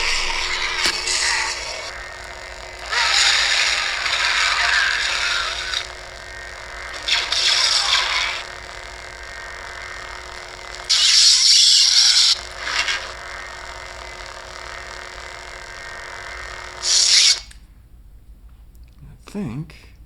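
An unstable crackling lightsaber blade from a SabersCrucible Crimson Dawn Banshee sound font hums loudly and steadily, with several bright swells and clashes over about seventeen seconds before the blade retracts and goes quiet.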